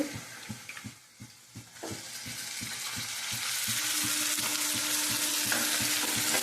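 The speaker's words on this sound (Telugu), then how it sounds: "ఉల్లిపాయలు అయితే బాగా వేగుతూ ఉన్నాయి ఎర్రగా. కొంచెం పసుపు వేస్తున్నాను అందులో. తర్వాత చికెన్ అయితే వేస్తున్నానండి." Chicken goes into onions frying with turmeric, and a steady sizzle swells and thickens as it settles into the hot pan. Rhythmic stirring knocks and scrapes sound through the first few seconds.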